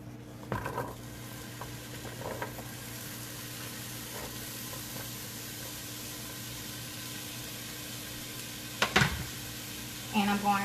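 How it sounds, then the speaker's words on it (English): Onions and peppers frying in a hot pan while hamburger steaks are being cooked, giving a steady close sizzle with a few utensil knocks and clatters over it. "I'm going to go ahead and add in my onions and my peppers."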